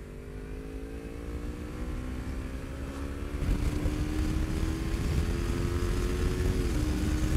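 A Kawasaki Ninja motorcycle cruises at about 150 km/h, its engine a steady droning hum under heavy wind rush, pitch climbing slightly as it accelerates midway.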